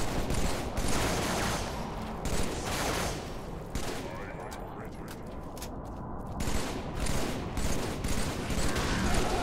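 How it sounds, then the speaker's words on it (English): Brute Shot grenade launcher fire from the Halo 3 Floodgate mission on Legendary, a dense, continuous barrage of explosive bursts and gunfire with one round whooshing past amid loud sustained combat noise. "that was a brute shot that went soaring by."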